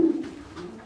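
A single short, close coo from a racing pigeon, low and soft, lasting under a second.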